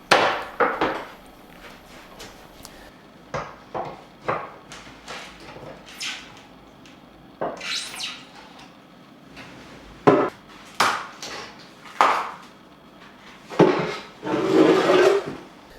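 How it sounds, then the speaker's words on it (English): Wooden batten pried and pulled off a wall after its adhesive has set, giving a run of sharp knocks, creaks and scraping rasps in irregular bursts, close and fairly loud with no talk. "With the adhesive dried overnight, I can safely remove the batten now"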